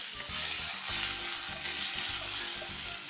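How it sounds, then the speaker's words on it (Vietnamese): Garlic and bok choy sizzle in a hot pan with a continuous, close hiss of frying, while low knocks of stirring recur at a steady rhythm beneath it. "khi mà tỏi vừa chuyển qua màu vàng và lên mùi thơm thì chúng ta sẽ cho cải thìa vô"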